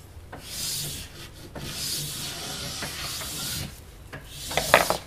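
Brushing cooled powder wax out of a ski base, repeated rough scrubbing strokes in an uneven rhythm, close and fairly loud, with a few sharper scraping accents near the end.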